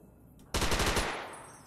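Rapid automatic fire of 5mm rounds in Fallout: New Vegas, a sudden loud burst of about seven quick shots that then fades into a ringing tail.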